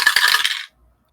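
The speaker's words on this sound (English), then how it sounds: "Sound of dice rolling in the distance" Dice rattle and tumble on a table in a brief, bright clatter with a few quick clicks, lasting under a second before cutting to silence.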